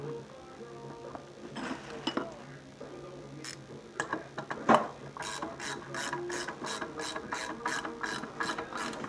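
A bolt is tightened on a heater during an annual tune-up with a ratchet wrench, producing a fast run of crisp, evenly spaced clicks that grows steady and rhythmic toward the end, close up with no talking.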